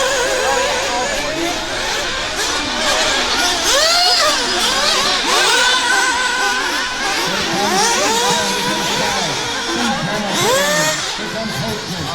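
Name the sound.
nitro RC buggy engine revving during a race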